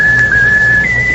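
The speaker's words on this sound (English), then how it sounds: "How about whistling the tune that you like best of all?" A person whistles a sustained, slightly wavering tune note, clear and close, carried on a bright single pitch with a small upward step near the end and no talking.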